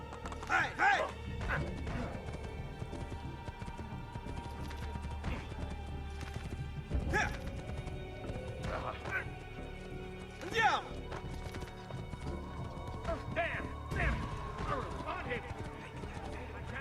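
Horse in the video game Assassin's Creed 2, hooves clip-clopping steadily with occasional whinnies and clattering crashes, mixed with game sounds.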